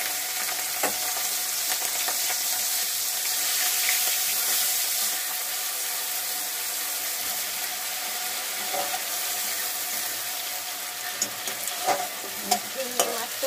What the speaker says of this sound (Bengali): চিংড়ি ভাজা হচ্ছে।